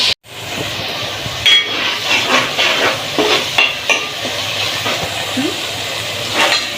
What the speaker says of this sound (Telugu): ఇందులో కొంచెం పసుపు, కొద్దిగా సాల్ట్ వేస్తే ఆనియన్స్ తొందరగా ఫ్రై అవుతుంది